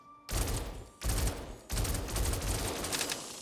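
Arc light burst pistol from the Star Citizen video game firing loud three-round bursts, three dense blasts of gunfire spaced about a second apart with sustained noisy energy between them.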